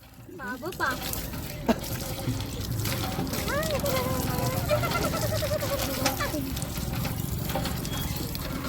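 Water runs steadily from a tap as hands and feet are washed before a meal on an outing to Vajreshwari, with children's voices and chatter rising over the continuous trickle.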